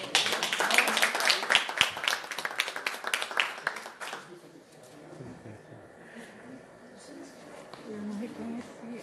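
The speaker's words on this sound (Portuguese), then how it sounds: "Salve de palmas para a Thaís." Audience applause at a live event, dense clapping for about four seconds that fades into quieter room murmur and scattered voices.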